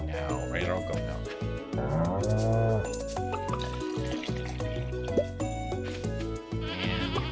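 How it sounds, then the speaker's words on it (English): A goat bleats in the farming video game Stardew Valley, a short wavering call rising above steady game music with small dripping effects around it. "Actually ready to be milked, huh, goat?"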